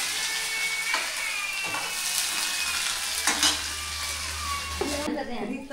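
Vegetable curry (sabji) stirred and fried in a pan in a home kitchen, a steady broadband sizzle with scraping stir strokes throughout, close and fairly loud, with a low hum underneath and faint voices in the background.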